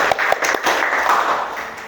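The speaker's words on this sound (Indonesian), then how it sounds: "tepuk tangan dong" Clapping from a classroom of students applauding the runner-up of a teacher-training activity, a brief close, steady patter of hands with a few sharper claps standing out.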